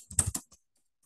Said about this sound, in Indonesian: Di sini ketik aja fakturnya UM Irapon